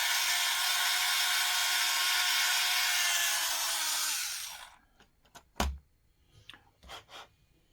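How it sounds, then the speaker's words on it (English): Tamiya handy drill boring out and enlarging a hole in a plastic model pod part, a steady close whirring grind for about four seconds before stopping, followed by a few faint knocks and handling sounds. "This is the Tamiya handy drill."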